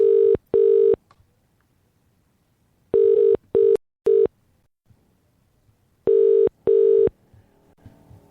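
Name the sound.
telephone dialing tones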